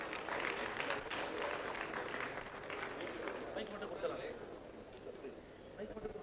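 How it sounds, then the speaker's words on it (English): Applause from an audience at a maritime summit in a large hall, clapping strongest at first and thinning out, with voices talking over it. "Please give a loud applause"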